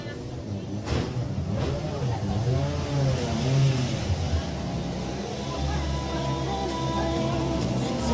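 Rally car pulls away from the start podium at a circuit rally, engine revving with rising and falling pitch sweeps, loud and nearby, while an announcer speaks over it.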